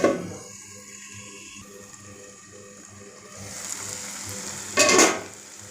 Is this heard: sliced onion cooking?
yes